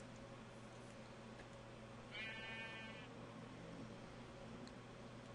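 A single sheep bleat in the video game Minecraft, a short wavering call heard once against a quiet, steady background hum.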